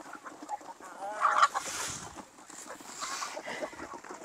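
Heritage-breed chickens and large roosters cluck and squawk in a breeding pen, with scattered close fowl calls and a brief louder flurry over a rustling farmyard background.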